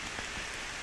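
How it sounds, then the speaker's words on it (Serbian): Spring rain falls steadily in a hornbeam forest at Grabik in the evening, a soft, even patter on the surface with no voices. "Kiša pada. Lijepa proljetna kiša."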